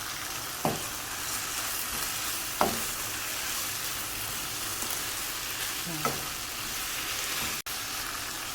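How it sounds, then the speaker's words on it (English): Noodles stir-frying with chili sauce and soya sauce in a hot pan make a constant close sizzle, punctuated by three or four sharp scraping knocks of the spatula. "Stir fry them all."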